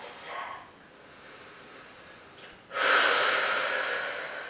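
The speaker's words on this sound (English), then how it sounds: "Long, deep breaths." During a Pilates swimming exercise, a person draws a long, deep breath, with a soft exhale early on and then a loud, airy inhalation that swells and slowly fades, close to the microphone.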